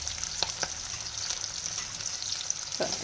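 Chopped onions and potatoes sizzle steadily in hot oil, a continuous bright frying hiss with a few soft stirring clicks, close and alone without voices.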